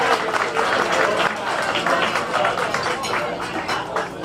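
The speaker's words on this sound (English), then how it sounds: "Let's give Joe a big round of applause" Audience applause for Joe, immediate past President Pro Tem, at a chamber installation of officers, steady and sustained clapping from a room full of people, loud and even throughout without a break.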